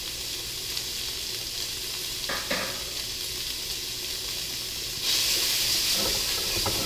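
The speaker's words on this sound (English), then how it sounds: "I've been heating up the wok to start getting the bacon in, which is going to give me some grease" Bacon sizzles and fries in a hot wok, a steady close hiss of grease with a few brief clatters and a louder, brighter burst of sizzling toward the end.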